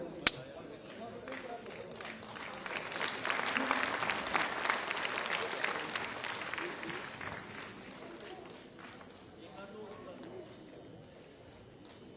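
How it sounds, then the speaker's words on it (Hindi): Audience applause at a state-level award ceremony for World Disability Day, a sustained round of many hands clapping that swells to a peak in the middle and then thins out, heard from within the hall. "कृपया जोरदार ताली से इसका उत्साहवर्धन करते हैं।"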